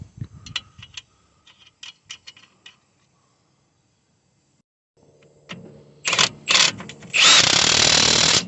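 A power tool drives suspension bolts back in on a Renault Trafic front strut, heard as a few faint ticks and clicks, then a close, loud whirring burst that grows and holds at the end.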